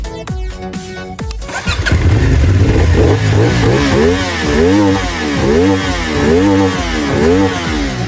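A CFmoto 450SR motorcycle with a 270-degree crank engine starts with a brief cranking whir, then settles into a loud close idle and is revved repeatedly in rhythmic rising and falling bursts.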